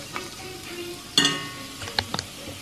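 Whole red chili, bay leaf and cumin sizzling in hot oil, with a faint crackle, a sudden louder spatter as garlic goes in, and a few light clinks of a spoon against the pan.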